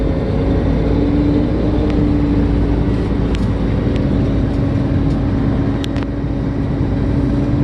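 A truck engine idles steadily while its air system builds pressure, a loud, constant low rumble with a droning hum and a few faint hisses and clicks above it.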